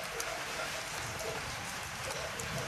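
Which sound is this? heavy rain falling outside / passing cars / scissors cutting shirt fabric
heavy rain falling outside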